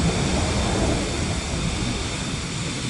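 Loud jet aircraft engine in Microsoft Flight Simulator 2024, a steady, close roaring drone that holds constant for a few seconds, with no talk over it.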